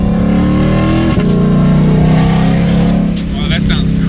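A 760-horsepower 2022 Ford Shelby GT500 roars and accelerates nearby, climbing in pitch before easing off, with brief voices at the end.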